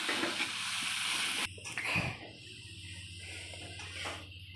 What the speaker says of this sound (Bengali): মাংসটা দিয়ে মা কষিয়ে নিচ্ছে।